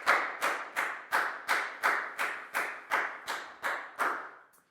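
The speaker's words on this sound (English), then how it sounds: "High five and a big round of applause for that gal" A Year 4 maths class claps eleven evenly spaced times in a steady rhythm, each clap sharp and close, then stops.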